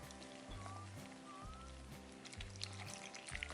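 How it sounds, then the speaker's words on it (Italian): A mix of water and milk is poured into bread dough for baked panzerotti, giving a soft, steady trickle and splash. It is faint, with a low hum and background music underneath. "Abbiamo inoltre mischiato l'acqua e il latte e cominciamo a versarla"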